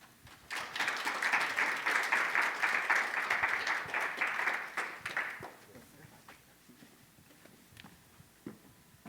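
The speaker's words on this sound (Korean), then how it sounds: "큰 박수로 정지훈 교수님을 모시겠습니다" Audience applause in a Korean XR industry conference hall welcoming a futurist lecturer to the stage, a dense sustained wash of many clapping hands for about five seconds that then tapers into scattered, fading claps.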